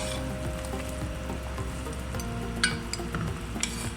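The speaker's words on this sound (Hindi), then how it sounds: "अब इसको अच्छे तरीके से मिक्स कर देंगे।" Chicken corn soup being stirred in a pot, with a steady bubbling, sizzling cooking bed and a few soft utensil clinks near the end.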